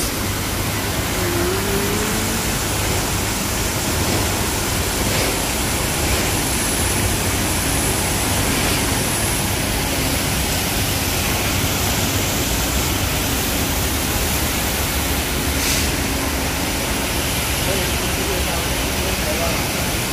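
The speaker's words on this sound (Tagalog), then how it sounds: "At meron din sila ditong falls." A waterfall in a butterfly garden roars as a steady, loud broadband rush, unbroken for the whole stretch, with faint voices buried beneath it.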